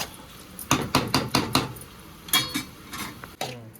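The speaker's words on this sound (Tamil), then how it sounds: "இது அப்படியே கிளறி இந்த மூடி வச்சிட்டோம்னா நல்லா எண்ணெய் விட்டு வந்துடுங்க." A spoon scrapes and clanks against a cooking pot as ground masala powder is stirred in, with a series of sharp metallic knocks in irregular rhythm, close and fairly loud.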